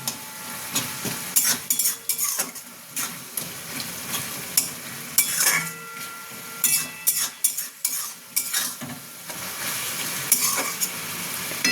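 Watermelon rind chutney cooking down in a pan, with steady scraping strokes of a spoon or spatula against metal over a soft, continuous sizzle, close and fairly loud, with occasional clinks.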